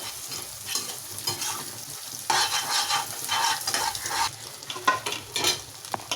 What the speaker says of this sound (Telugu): ఇప్పుడు మసాలాకి బాగా పట్టేలా ఎగ్ని కలుపుకోవాలి.